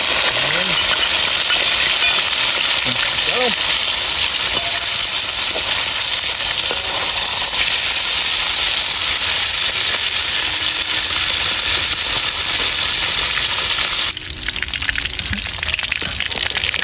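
Fish frying in a large pan over a makeshift outdoor stove during a survival camp, a steady dense sizzle and crackle running throughout, close and loud, with a brief shift near the end.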